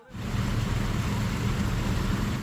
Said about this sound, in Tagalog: Lumambot ang lupa sa ginagawang riprap dahil sa walang tigil na ulan.